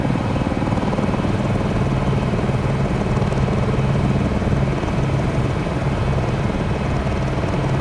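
Steady, loud helicopter rotor and turbine drone in Microsoft Flight Simulator 2020, continuous throughout with a dense low thrum and a faint rhythmic blade chop, no talking.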